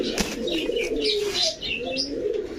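Black Rampuri pigeons of a Pakistani breed coo and chirp close by, steady throaty calls layered over one another with a brief wing flutter, no talking.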